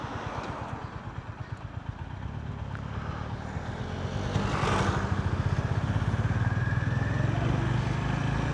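A Honda GB350S motorcycle rides through city streets, its single-cylinder engine thumping steadily up close, then growing louder and faster partway through as the rider accelerates.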